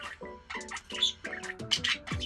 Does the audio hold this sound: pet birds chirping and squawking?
yes